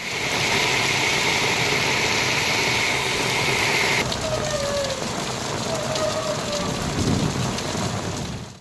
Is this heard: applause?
no